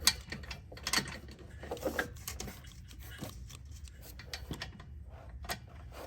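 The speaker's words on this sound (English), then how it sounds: "Get up in there with your wrench." A wrench loosening bolts on a turbo-back exhaust system, giving irregular metallic clicks and ratcheting taps over a low background rumble.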